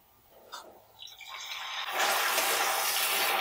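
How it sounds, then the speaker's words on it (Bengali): Water poured into a pot of fried onions while making vegetable khichuri. It starts with a few light splashes, then rises into a steady, loud rush of pouring and sizzling that carries on to the end, with no voices. "এখন আমি একটু পরিমাণ মতো পানি দিয়ে দিব"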